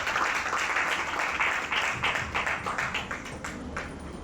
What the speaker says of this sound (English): So have one applause for Mr.